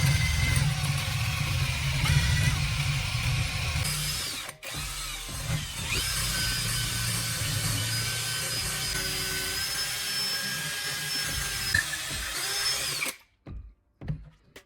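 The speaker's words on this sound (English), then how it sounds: "Secure the wooden piece in a vise and drill a hole straight through the center." A power drill boring a hole straight through a wooden handle clamped in a vise: a loud continuous whine running steadily for about thirteen seconds with a brief dip midway, then stopping, followed by a few clunks.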